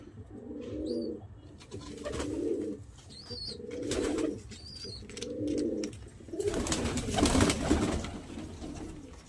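Pigeons coo repeatedly in a loft where some birds are nesting on eggs, several rolling low coos in a steady rhythm, close and clear, with faint chirps and rustling between calls.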